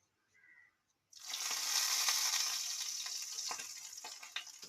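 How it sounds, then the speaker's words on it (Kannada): Onion hits hot cow ghee in a pan with a sudden sizzle that holds as a steady, close frying hiss, with small crackles and pops running through it. "ಇವಾಗ ನಾನು ತುಪ್ಪ ಹಾಕ್ಕೊಂಡು ಹುರ್ಕೊಂಡಿದ್ದೀನಿ."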